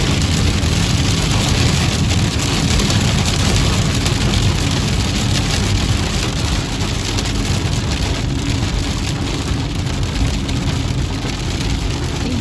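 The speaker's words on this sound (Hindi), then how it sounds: "मैंने आवाज़ म्यूट नहीं की क्योंकि आप थोड़ा फील करें और आपको पता चले कि बारिश हो रही है" Steady, dense, heavy rain in Calgary roars continuously, with a low rumble underneath, loud and unbroken throughout.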